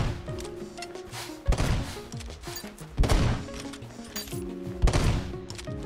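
Gunshots fired at bugs in the pixel-art game Eastward, a series of sharp punchy blasts spaced roughly a second or more apart, each trailing off, over a busy layered game soundscape without speech.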